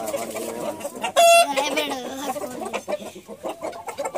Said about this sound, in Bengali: খুবই ভয়ঙ্কর একটা মুরগি, দেখতে পাচ্ছেন ফাইটার